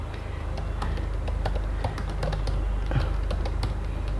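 Fingers type on a computer keyboard at a brisk, uneven pace, with a close run of key clicks over a low steady hum.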